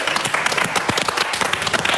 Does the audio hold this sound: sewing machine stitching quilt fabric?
no